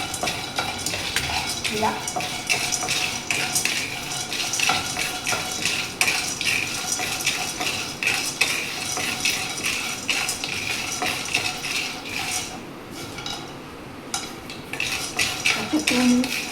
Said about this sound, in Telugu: దీన్ని మీరు ఆల్రెడీ వేయించిన పల్లీలు అయినా ఒకసారి మీరు వేయించుకోండి.